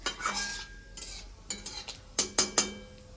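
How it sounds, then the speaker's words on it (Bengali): Whole cumin, dried red chilies and bay leaf hit hot oil for a Bengali tempering, giving a brief crackling sizzle followed by several sharp clinks and scrapes of a spoon stirring in the pan, close and fairly loud. "যে তেলটা আছে সেটার মধ্যে আমি এখন একবারে ফোড়ন দিয়ে দেবো। এখানে আছে গোটা জিরা, শুকনো লঙ্কা, তেজপাতা।"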